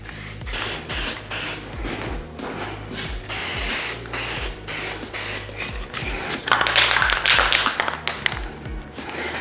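Aerosol can spraying a protective anti-rust coating onto a 40 HP VW engine part: close hissing bursts in short repeated pulses, broken by brief pauses and rattles, louder toward the end.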